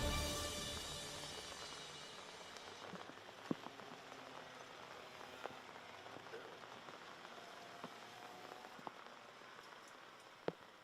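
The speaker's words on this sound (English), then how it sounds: "Well, Simon, as the rain continues to hit the track heavily, it's done so for at least the last half hour and a bit" Heavy rain falls steadily on a kart race track at Mariembourg, a faint, even hiss of drops with a few sharp ticks scattered through it.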